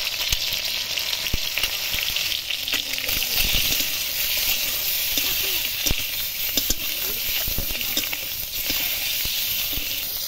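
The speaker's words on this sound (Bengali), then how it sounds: "ডিমটা ভাজা হয়ে গেছে।" Egg seasoned with salt and a pinch of turmeric frying in oil in a kadai, a steady close sizzle and hiss running throughout with a few faint clicks and knocks over it.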